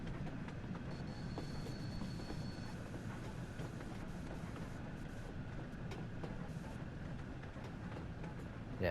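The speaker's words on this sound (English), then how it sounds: "Yeah, that's the train there." A train runs along the line near a steam rail tour, a steady, distant rumble with faint wheel squeal, no voices.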